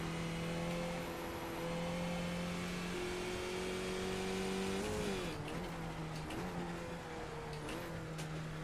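A five-gear race car in the iRacing sim holds a loud, steady engine note that climbs through revs, drops sharply at a gear change around the middle, then resettles and pulls again with no talk over it.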